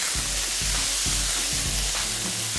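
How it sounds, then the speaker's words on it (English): Prawns sizzling in hot oil in a pan, a loud steady crackling hiss with repeated low thumps as they are moved around, close up with no talking. "The prawns hit the pan and turn pink almost immediately."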